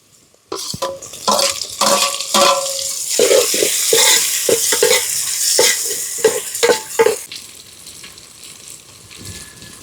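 Onions, green chillies and freshly added tomatoes fry in a pan for gongura mutton curry, with loud sizzling and repeated scraping strokes from stirring close by.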